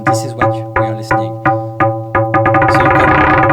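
Mutable Instruments Marbles clock output triggering an FM voice from a Plaits module: a steady rhythmic pulse of metallic, bell-like FM notes, evenly spaced at first and then speeding into a dense rapid stream, loud and up close.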